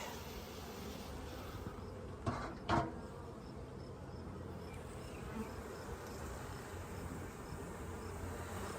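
Honey bees buzz steadily around a hive frame during a nuc split, a low, faint, continuous drone with two short knocks from handling the frame partway through.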